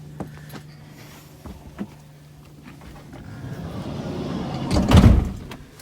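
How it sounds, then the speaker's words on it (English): A van's sliding door rolls open with a rising rumble that swells to a heavy thud near the end, following a few light clicks and a low background hum. "The other one that gave us issues was this sliding door."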